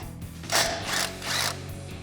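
A ratchet on a 12mm socket loosens a brake line bracket bolt at the steering knuckle of a 2005-2021 Toyota Tacoma, giving three quick bursts of clicking, close and fairly loud.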